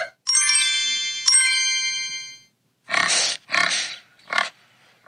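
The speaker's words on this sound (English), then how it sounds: "I know who is it. It's a piggy." A cartoon pig oinks in the Masha and the Bear children's game: a bright chime rings twice and fades, then three short grunting oinks follow, loud and close, with no talk.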